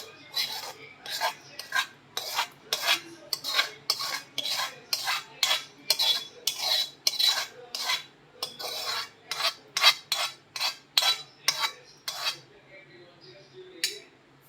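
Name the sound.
spreading mango pulp mixture on an oiled plate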